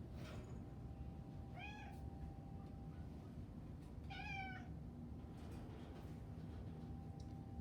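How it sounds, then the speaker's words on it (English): Cats meow in a rescue shelter intake room, two separate distinct calls rising over a quiet steady background hum. "we do have some cats in the intake room"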